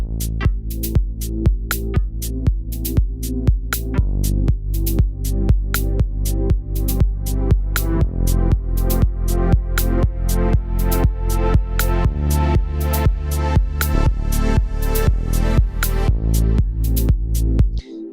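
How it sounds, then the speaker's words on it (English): A looping electronic beat with steady thumping kicks and bright percussive hits, its tone repeatedly sweeping from muffled to bright in a regular cycle. "the same filter cutoff from the lower value to the higher value, repeating"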